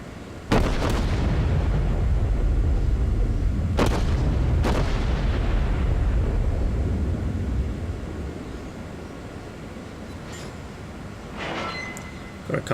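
Naval guns fire in a warship battle game: a few heavy booming salvos with long rolling rumbles, loud and close, then quieter background noise with faint distant shots.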